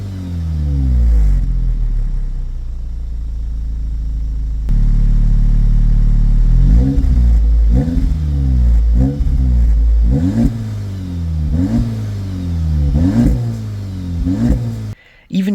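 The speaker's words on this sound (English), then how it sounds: "the engine is idling, you will see that the RPM will rise above 1000 RPM. And also the exhaust valves will open up completely." An Audi engine in sport mode with exhaust valves open drones steadily, then rises in a series of repeated rev swells with a deep, pulsing exhaust note, loud and close throughout.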